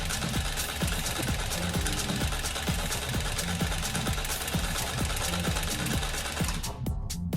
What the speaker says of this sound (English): put your pressure foot down again, and then continue sewing